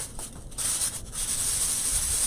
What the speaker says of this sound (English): if you want to smooth the top, well then you just run your sandpaper through it.